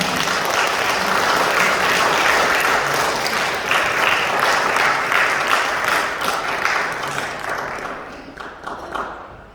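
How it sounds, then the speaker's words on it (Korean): A church congregation at an elders' and deaconesses' ordination ceremony breaks into loud, sustained applause, dense clapping close by that holds steady and then tapers off toward the end. "축하의 박수로 축하해 주시기 바랍니다."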